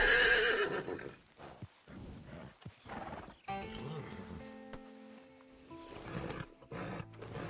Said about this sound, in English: You need to get that horse under control.